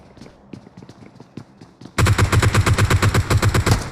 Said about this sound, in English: One killer getting shot by Wallace.